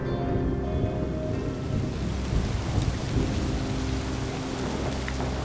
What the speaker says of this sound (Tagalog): Mukhang lalakas pa tong ulan.